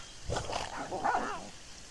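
Puppies yelp and whimper in RuneScape as they are killed, a short, faint cluster of high, wavering canine cries.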